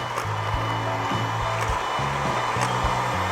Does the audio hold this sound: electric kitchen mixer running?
yes